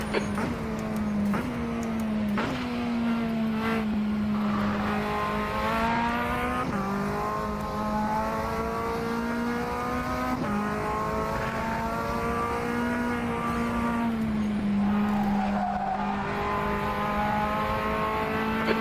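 Mazda MX-5 Cup race car engines at Virginia Raceway, a steady loud drone of one near engine holding high revs, with brief dips and climbs at gear shifts and corners running throughout, no talking.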